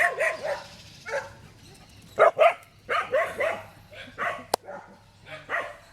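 A dog barks in a series of short, loud barks and yips close by in a home, with brief pauses between them.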